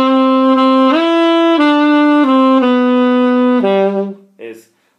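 Alto saxophone playing a phrase from a norteño song, a run of sustained, stepwise notes played solo and close, ending with a short final note after a brief break.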